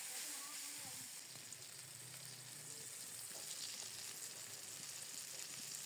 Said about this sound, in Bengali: এভাবে অনেকক্ষণ পর্যন্ত নেড়ে চেড়ে কপিটাকে একটু লাল লাল করে ভাজা করে নেব, জলটা শুকিয়ে নেব।